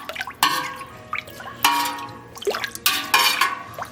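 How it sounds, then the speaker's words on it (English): Gouda cheese curds being stirred through whey in a pot, giving three separate bursts of sloshing and dripping liquid with quieter pauses between them, close by and with no talking. "So it had a 5-minute rest and now another 5-minute stir."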